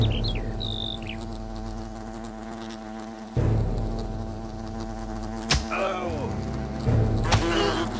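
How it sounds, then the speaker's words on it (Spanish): Wasps in the fantasy video game Fable Anniversary buzz steadily and closely for several seconds, a droning hum with sharp bursts layered over game ambience. "¡Avispas! ¡Avispas!"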